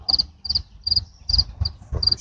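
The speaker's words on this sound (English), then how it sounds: "That's how they make their sounds when they rub their wings together." A large cricket chirping by rubbing its wings together, six close, loud, evenly spaced high trilling bursts with short gaps, each over a low rumble.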